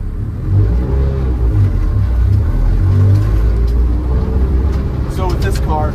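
A lowered 1997 JDM Honda Civic with a B20B engine swap rolls over an uneven gravel surface, a steady engine drone and tire rumble filling the cabin with scattered crunchy ticks near the end.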